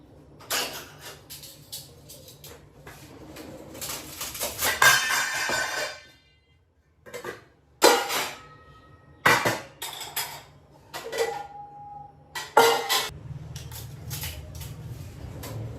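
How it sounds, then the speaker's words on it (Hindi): Steel dishes and utensils clatter as they are arranged in a home kitchen, with bursts of clinking, scraping and knocking separated by brief quiet pauses, close and fairly loud. "काफ़ी सारे बर्तन हैं, इनको भी मुझे अरेंज करना है।"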